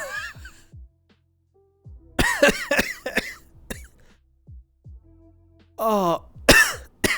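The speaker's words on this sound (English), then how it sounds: "I'm gonna mute so I can cough." Repeated harsh coughing fits, close and loud, in clustered bursts separated by brief pauses, with a groaning exclamation between them.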